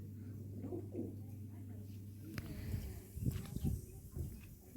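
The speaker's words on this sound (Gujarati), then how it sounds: "ના જો કબૂતર" Pigeons coo softly in low, rounded calls at a stepwell in a village. The sound is fairly faint, with quiet voices and light shuffling around it.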